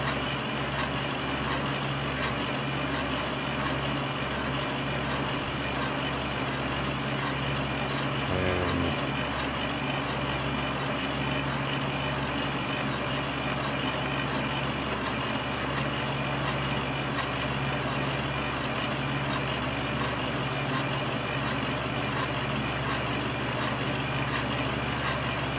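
Motor of a coil winder whirring steadily for the whole stretch with the pedal held down, a constant loud drone with a slight wobble and a brief bump partway through.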